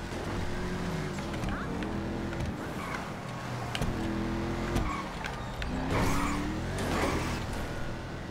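A car in GTA 5 Online roars along with a rising and falling engine note, with bursts of tire noise as it skids, while someone talks over the driving.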